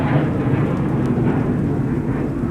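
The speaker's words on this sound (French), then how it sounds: "Désolé pour le bruit, hein, c'est un avion qui a passé." An airplane passes overhead as a loud, continuous low rumble that fills the whole stretch without letting up, with no one talking.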